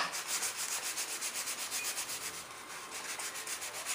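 Sandpaper rubbed by hand over a small scale-model part, shaping the wing hinge humps of an F-18 model: steady, rhythmic scratchy strokes, close and continuous, with no talking.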